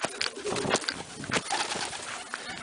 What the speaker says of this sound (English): And my young birds have come and landed.